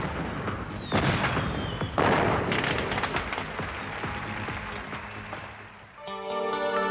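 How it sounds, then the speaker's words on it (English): Fireworks boom and crackle continuously in a dense, rumbling barrage over the Sky Tower in Auckland at night, heard from a distance, before a brief dip and a swell of music at the end. "the Sky Tower was welcomed with a spectacular fireworks celebration which lit up the night sky"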